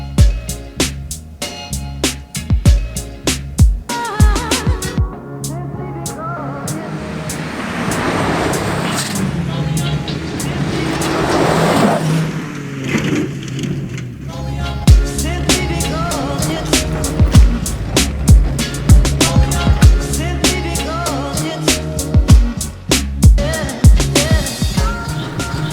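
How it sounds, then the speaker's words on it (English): A Jeep driven with the windshield folded down rumbles along with loud wind buffeting and road noise, engine and tires droning steadily while people talk over it. "now we can drive her like the original Jeeps"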